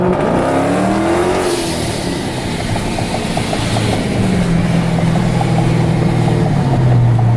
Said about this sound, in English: So you can hear the blow off really loud once you get on it